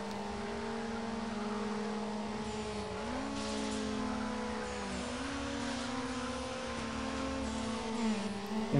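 A Mazda Miata with Stage 2 upgrades and traction control in Need for Speed Underground revs hard, its engine tone climbing and shifting through gears in a sustained, steady drone with no talking.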